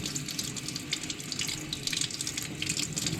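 Tap water running steadily from a faucet into a sink while a metal water heater inlet screen is rinsed, a close, continuous splashing hiss with slight changes as the flow hits the screen.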